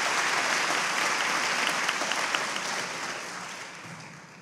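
A church congregation applauds a Pulpit Search Committee during a Sunday worship service, a dense, steady wash of clapping throughout that fades slightly toward the end.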